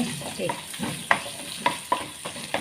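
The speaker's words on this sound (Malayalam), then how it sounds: "ചൂടാകുമ്പോഴത്തേക്ക് നമ്മൾ ഈ ഇഞ്ചി ഇട്ടു." Chopped ginger dropped into hot oil sizzles steadily, with several sharp scraping stirs of a spoon against the pan punctuating the close, continuous crackle.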